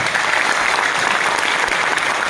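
An audience at an IMC Business leadership event applauds loudly and continuously, a thick, unbroken wall of clapping close by from start to end.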